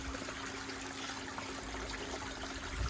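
An aquarium filter trickling water into a fish tank: a faint, steady liquid trickle with a low constant hum beneath it, uninterrupted and close by.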